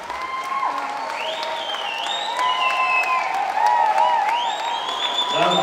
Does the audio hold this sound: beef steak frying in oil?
no